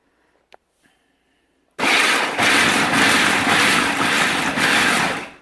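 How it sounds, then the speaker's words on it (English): Food processor pulsing pecans for a keto pie crust: after a near-silent start with a faint knock, a loud whirring grind kicks in and runs in short surging bursts until the end. "Now, what you're going to do is you're going to pulse it."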